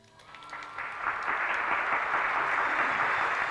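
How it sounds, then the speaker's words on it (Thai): Audience applause at a live comedy and music show, swelling from a light patter into steady, dense clapping that holds loud and sustained to the end, with no talk over it. "เสียงปรบมือแล้ว"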